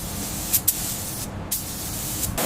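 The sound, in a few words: spray painting Mini Cooper in British racing green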